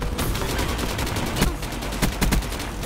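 An RPK machine gun fires in the video game Black Ops 3 as close, rapid bursts of sharp shots, some spaced apart and some clustered, over a constant busy game-noise bed.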